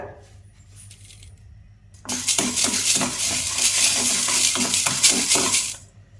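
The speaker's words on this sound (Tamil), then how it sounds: "முதல்ல கருப்பு உளுந்தை வறுத்துக்கலாம்." Black urad dal is dry-roasted in a pan. After a quiet start, a dense, close rattle of the grains being stirred against the metal sets in and continues for several seconds, then stops abruptly.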